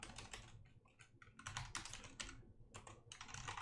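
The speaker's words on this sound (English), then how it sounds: "I can type apparently without thinking what I'm typing" Fingers type on a computer keyboard while someone writes Rust code, giving bursts of quick, close, crisp key clicks separated by brief pauses, with no talking.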